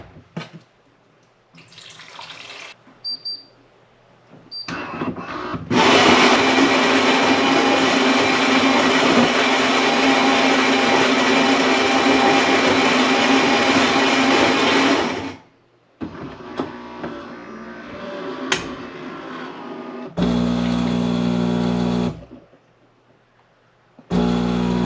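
A Philips 3300 espresso machine grinds fresh beans in a steady, loud, harsh whir for about ten seconds, followed by shorter bursts of machine noise and pauses.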